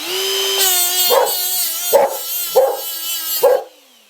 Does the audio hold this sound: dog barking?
yes